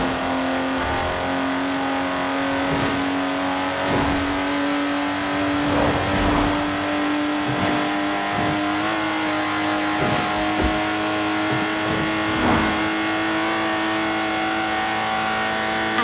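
Lotus Exige engine in Forza Horizon 4, revving and accelerating hard through repeated gear changes, a loud, close, continuous mechanical drone with sharp shift breaks and no talking.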